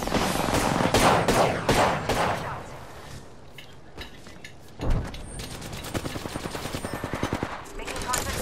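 Automatic weapons in the battle royale shooter Apex Legends rattle in rapid bursts, with dense sustained fire early on and a steady stream of quick shots later, along with an occasional voice and other game sounds.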